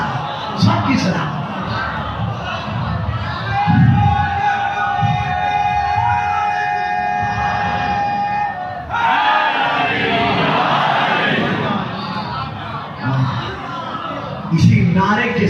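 A crowd at a religious sermon chants a slogan, loud massed voices rising in bursts with whoops and cheers, mixed with amplified speech and a sustained held tone.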